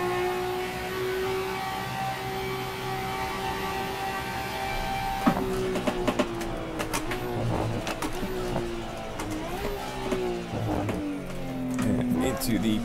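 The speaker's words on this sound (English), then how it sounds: "I'm just backing off the throttle slightly" A racing car's engine in Assetto Corsa hums at a steady pitch, then the revs drop and wander as the driver eases off the throttle, with someone talking over the engine throughout.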